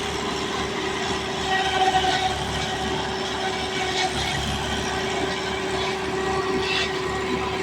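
A tractor engine runs at a steady idle with a constant droning hum and faint mechanical rattling, and no voices.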